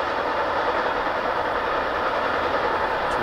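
A Metra commuter train rolls past on the BNSF line as a steady, loud, broadband rush of rail noise with no pauses.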